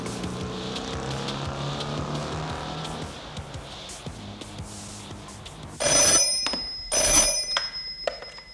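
A telephone rings in the secretariat office of a Belgian technical school in 1973: two loud ring bursts close together, following a stretch of low background noise with no speech.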